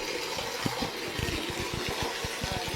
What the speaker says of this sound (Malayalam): അല്ല വെള്ളം ഫുള്ള് കളയാ